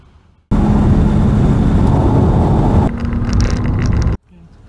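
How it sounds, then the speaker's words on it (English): A car engine with a rev limiter roars up to a loud, sustained rev held for several seconds, drops slightly in pitch near the end, then cuts off abruptly. "I'm gonna rev this bad boy for you to see how you really like it."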